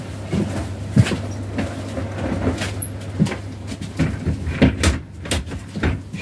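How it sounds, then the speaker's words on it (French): A door is pulled shut against strong wind, giving a string of close, loud knocks and thumps over a steady low rumble of gusting air, with no talking. "Je vais fermer la porte parce qu'il y a beaucoup de vent."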